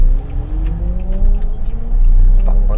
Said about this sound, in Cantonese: 砰砰聲啊！ 電單車。